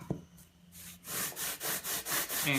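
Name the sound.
sanding the trailing edge of a model flap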